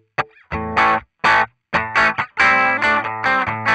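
Electric guitar played through a NUX MG30's stock Fender Deluxe Reverb amp emulation, with a slightly crunchy, mildly distorted tone: a few short plucked chords separated by pauses, then a longer sustained strummed passage, close and loud, with no voices.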